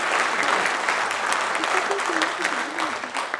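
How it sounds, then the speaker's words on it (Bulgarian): Audience at an awards ceremony applauding, a full steady burst of clapping from a large crowd, loud and continuous, with a faint voice or tone underneath. "Аплодисменти за всички тях!"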